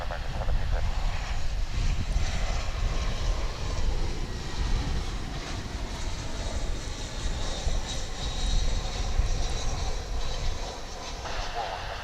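An American Airlines Airbus A319 arriving at DFW International Airport from Silao, Mexico, a continuous broad jet engine roar with wind noise, steady and fairly loud for the whole stretch.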